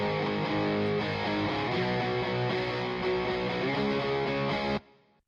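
A thick, double-tracked distorted electric guitar recording plays a steady chordal passage, full and wide, then cuts off abruptly near the end.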